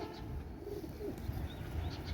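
Soft, low cooing of imported Pakistani-bloodline pigeons, faint and murmuring, over a dull background hum.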